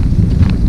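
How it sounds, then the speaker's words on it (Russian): Steady wind buffets the microphone outdoors on a frosty morning by Lake Janisjärvi, a dense low rumble that runs unbroken and fairly loud. No voices are heard. "ветер."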